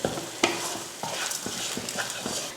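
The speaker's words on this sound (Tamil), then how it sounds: "மல்லித்தலை இதை கிளறிடுவோம்" Garlic rice with coriander leaves stirred in a pan, a series of scraping spoon strokes over a soft sizzle, close and moderately loud.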